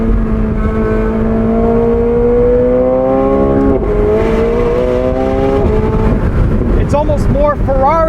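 A 2024 McLaren 750S V8 with a retuned, recalibrated exhaust revs steadily at close range, its engine note rising and falling in a continuous harmonic drone, then climbing through quick repeated blips near the end while a voice talks over it.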